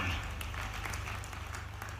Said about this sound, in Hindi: आप ताली वाली बजाते जाओ